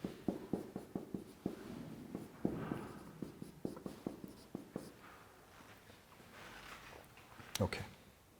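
Chalk or marker strokes tap and scrape on a board in a signals-and-systems lecture hall, a run of short close clicks and scratches, followed by quieter rustling and a brief louder knock near the end.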